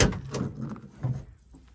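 A Toyota Tacoma V6 pickup's large bed tailgate is opened by its handle, giving a short latch clunk followed by a softer assisted swing, close and moderately loud with no talk.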